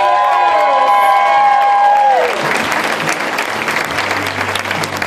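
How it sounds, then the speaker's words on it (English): A crowd at an event recognizing a seven-year survivor applauds loudly and continuously, with whistles and cheers rising at the start before settling into dense, steady clapping. "Let's give Brittany a round of applause for surviving 7"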